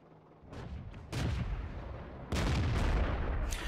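Cannon fire from a Chi-Nu, a tier 5 Japanese medium tank in World of Tanks: two heavy booming shots about a second apart over a low rumbling background of engine and battle noise.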